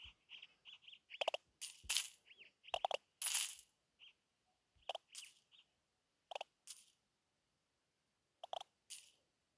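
Rapid bursts of computer keyboard typing, sharp clicky clusters of keystrokes with short pauses between flurries, close and fairly quiet while someone plays Roblox Pet Simulator X.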